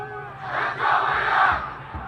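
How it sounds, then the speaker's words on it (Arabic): A crowd of football supporters of Al-Quwa Al-Jawiya chanting and cheering together at Al-Shaab Stadium in Baghdad during an Iraq Cup match, a swelling mass of voices from the stands. "هتافات تستمر من جانب لاعبي القوة الجوية"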